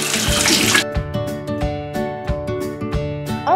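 A bathroom tap gushes water into a sink to rinse off a face mask, a loud rush that cuts off after under a second and gives way to quieter ringing, tonal sounds.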